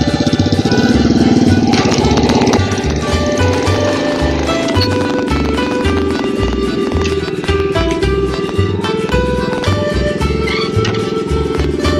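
A tractor engine chugs steadily and loudly throughout on wet farmland, with a throbbing low rhythm and some mechanical rattling on top.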